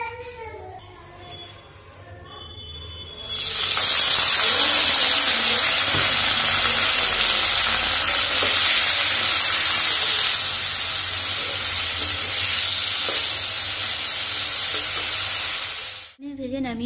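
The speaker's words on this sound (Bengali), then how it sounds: "একটু পনিরটা আগে ভেজে নিচ্ছি। আমি অল্প তেল দিয়ে ভেজে নিচ্ছি।" Paneer frying lightly in a little oil in a wok, a loud, steady sizzle that bursts in after a few seconds of quieter kitchen sounds and holds nearly unchanged until it cuts off near the end.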